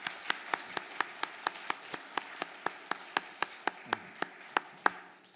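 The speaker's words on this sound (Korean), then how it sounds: "박수로 환영해 주십시오." A church congregation at a Sunday service claps in welcome for a new pastor, giving a faint, steady run of evenly spaced single claps, about four per second, with little else heard.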